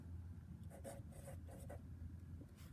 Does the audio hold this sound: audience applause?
no